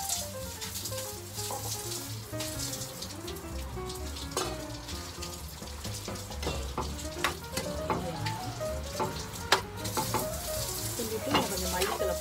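Mushroom and peas gravy with added coriander leaves simmers and fries in a pan, a continuous soft sizzle and bubbling with occasional light pops, fairly quiet and close, with no talking.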